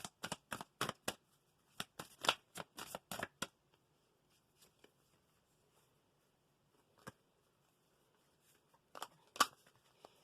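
A tarot or reading deck is shuffled in a quick burst of crisp riffling card flutters, then a few scattered soft card taps and one more brief shuffle near the end, close and quiet with no talking.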